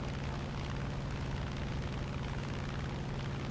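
A Grumman F6F-5N Hellcat piston fighter in War Thunder roars at full power as it takes off from an aircraft carrier, a dense, steady engine drone with a throbbing low rumble filling the whole stretch.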